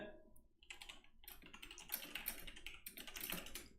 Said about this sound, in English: I'm just typing to remind them.